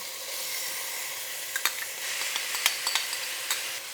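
Chopped roasted poblano peppers tipped into a soup pot with sizzling and stirring, a low steady hiss punctuated by several soft clicks and scrapes near the end, no voices.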